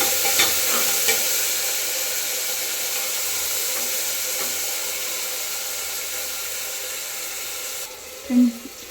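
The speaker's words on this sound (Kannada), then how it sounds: "ಟೊಮೊಟೊ ಹಾಕಿ ಫ್ರೈ ಆಗಬೇಕು" Tomatoes frying with roasted onion in a pan for okra (bhindi) sambar give a steady, close hiss of sizzling oil with faint stirring scrapes and a brief clink near the end.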